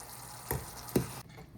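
Hot tempering of oil and spices (vaghar) poured into simmering dal, giving two sharp, loud sizzling bursts about half a second apart, each hissing briefly before fading into a low background hum.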